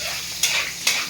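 Bola-bola meatballs frying in a pan, a steady close sizzle with two brief louder bursts of spattering or stirring, no talking over it.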